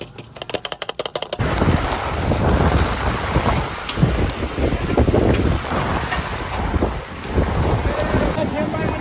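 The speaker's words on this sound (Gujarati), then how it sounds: "ફૂલ વાવાઝોડું અચાનક જ આવી ગયું" A sudden full windstorm roars across the microphone in loud, heavy buffeting gusts, beginning abruptly after a brief burst of rapid clicks and continuing as a constant rumbling blast.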